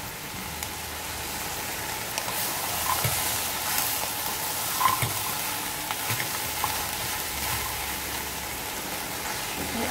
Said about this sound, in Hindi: इन सारी सब्जियों को 1 मिनट भून लेंगे।